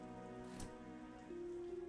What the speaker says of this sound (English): Is it starting to rain?